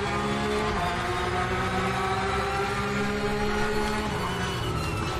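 A Porsche 911 Carrera Cup race car in the RaceRoom racing game: a steady, loud engine drone holds high revs throughout, with a brief pitch dip near the end as the car shifts or lifts.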